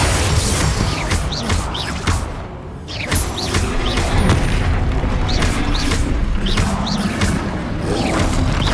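A Bombarda spell explosion in Hogwarts Legacy, a loud boom amid busy combat with whooshing spell casts, crashing impacts and rapid bursts repeating close up.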